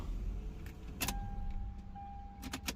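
A 2001 Lexus GS300 with a throttle fault code being switched off: a few sharp ignition-key clicks and jangling keys over a low idle-like rumble, with a thin steady electronic tone holding in the background.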